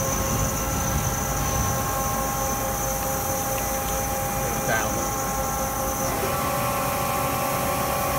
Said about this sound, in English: Let's go ahead and kick the spindle up here. We're at 400 RPM.